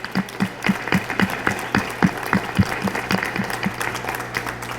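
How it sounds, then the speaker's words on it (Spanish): A conference panel audience applauds together, a dense run of hand claps with a distinct sharp rhythmic clapper standing out, sustained for several seconds in a room. "nos damos un aplauso a todos por esta participación"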